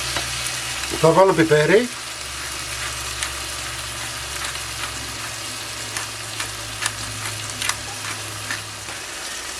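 Sausage pasta ingredients sautéing and being stirred in a pan, a steady low sizzle with scattered spoon clicks and scrapes; a brief voice speaks near the start over the frying.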